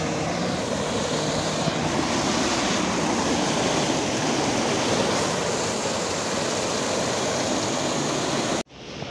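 A large waterfall at Kokernag rushes with a loud, steady broadband roar that fills the scene before cutting off abruptly near the end.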